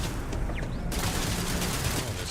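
Turrets fire a rapid burst of automatic gunfire during a Starfield firefight, giving dense, continuous crackling shots at a moderate level.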